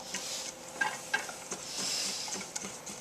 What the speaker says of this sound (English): just mixing it constantly. I'm using a whisk